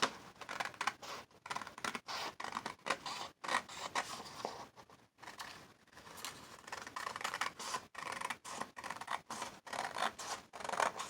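Scissors cut out document paper for a vintage travelers notebook, giving quiet, close snips and rustling paper in irregular bursts with short pauses.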